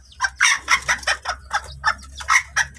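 Backyard ornamental chickens near a caged hen guarding her chicks, with about ten sharp, evenly spaced clucks in a steady pulse, loud and close over a low hum.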